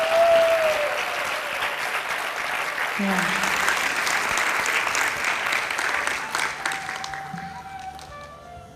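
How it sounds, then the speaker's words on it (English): An audience applauds after a Bharatanatyam arangetram dance performance, a loud, sustained roar of clapping that slowly fades, with a brief voice and some crowd noise under it. "Can we hear another round of applause"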